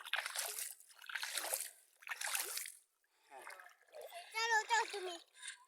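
Splashing and sloshing of floodwater as feet are washed, several bursts of water sounds close by, with a child and an adult talking over and between them.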